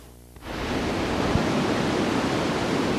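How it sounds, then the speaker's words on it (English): Waves break along the jagged, rocky California coast near Moss Beach, a dense continuous roar of surf that swells in suddenly after a quiet moment and holds loud and steady, with no voices. "Waves breaking along the jagged California coast."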